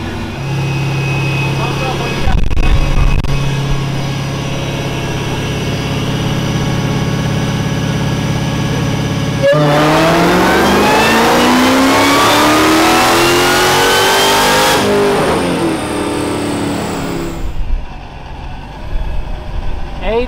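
A C15 diesel engine vehicle idles on a dyno, then revs up in a loud, rising pull lasting several seconds before dropping off sharply, with voices talking over the idle.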